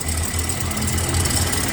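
A Toyota Hiace Grandia engine idles with an abnormal noise, a steady, loud mechanical drone with a continuous knocking, rattling roughness heard up close and without any talk.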